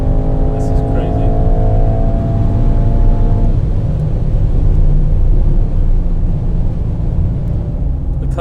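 A Mercedes-AMG car on a road trip from London to Affalterbach, driving on the road: a steady engine and road drone with humming tones that fade after a few seconds, running continuously under people talking.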